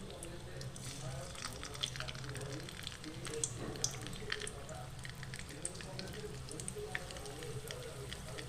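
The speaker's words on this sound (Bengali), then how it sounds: "তেলও গরম হবে, সঙ্গে সিঙ্গারাগুলোকেও ভেজে নেব আস্তে আস্তে।" Mini singaras fry slowly in hot oil in a pan, giving a continuous gentle sizzle peppered with small crackles and pops throughout.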